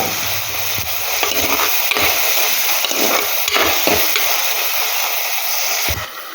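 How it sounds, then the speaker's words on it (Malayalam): Onions and tomato sautéing in a pan for a Kerala-style roasted-coconut fish curry: a steady, close sizzle and hiss with several soft spoon-stirring scrapes, no voices over it. "തക്കാളി ചേർത്തൊന്ന് വഴറ്റിയെടുക്കുക"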